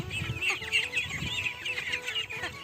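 Guinea fowl and chickens cluck and chatter together in a busy, overlapping flock, close by and continuous.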